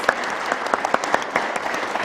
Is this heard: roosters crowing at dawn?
no